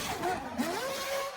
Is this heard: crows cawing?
no